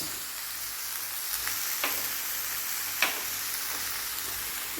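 Boiled rice frying in a pan over a lowered gas flame with Schezwan sauce, a soft steady sizzle with a few light clicks of stirring, close and alone.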